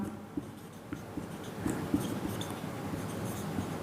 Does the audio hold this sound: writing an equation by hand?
yes